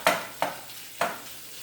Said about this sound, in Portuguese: vamos aguardar que o bacon frita aqui agora